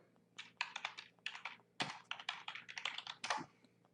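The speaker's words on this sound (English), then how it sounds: "let me type in MCA testimonials real quick" Fingers type on a computer keyboard in quick, uneven bursts of close, crisp clicks with brief pauses between words, and no one talks.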